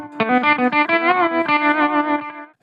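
Electric guitar played through an HX Stomp with a lead boost: a bright, sustained run of distorted notes and chords, loud and up front, ending abruptly with a short pick attack.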